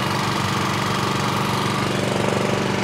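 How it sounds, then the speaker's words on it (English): Steady, grinding core drilling into concrete at a sea wall construction site at Dawlish railway station, with a continuous engine-like drone and rapid rhythmic chatter, holding constant throughout without pauses or voices. "the coring operatives, they're working in front of us, coring out the holes"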